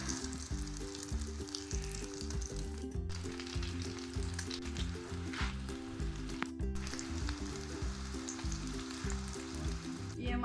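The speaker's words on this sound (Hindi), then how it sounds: "ये हम चिकन शामी कबाब जो है ये फ्राई कर रहे हैं" Chicken shami kebabs fry gently over low heat in a soft, continuous sizzle with faint crackles, heard quietly beneath steady background music.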